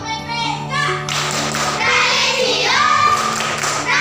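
A primary school class in Indonesia claps out the PPK clap chant. Rhythmic group hand claps and thumps mix with children's chanting voices close by.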